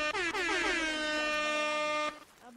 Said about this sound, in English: redeem air horn